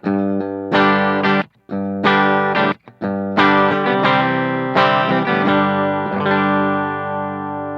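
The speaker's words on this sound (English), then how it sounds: "So here's a clean tone with the dry signal." Clean electric guitar tone with dry signal, played through a Line 6 HX Effects unit, plays sustained chords and notes with brief silent gaps between phrases, sounding fairly dry and close.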